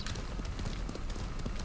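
Horse hooves in the Ghost of Tsushima video game beat a quick, steady clip-clop, close and continuous, with no talking over them.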